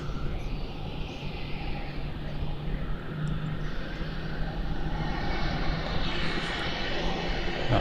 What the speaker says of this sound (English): another Jetstar taxiing to bay.